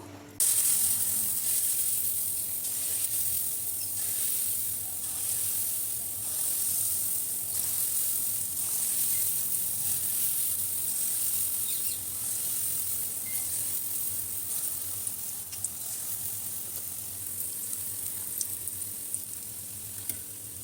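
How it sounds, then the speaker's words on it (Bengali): Palm fruit fritters (taler bora) fry in hot oil, making a loud, close, continuous sizzle and hiss that holds steady throughout with occasional small crackles. "এখন আমি তালের বড়া ভেজে নিব।"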